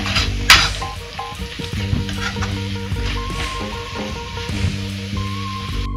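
Drumstick leaves and egg fry in a pan with a close, continuous sizzle. Scattered clinks and scrapes of stirring sound throughout.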